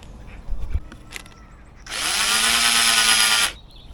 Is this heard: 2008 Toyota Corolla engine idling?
no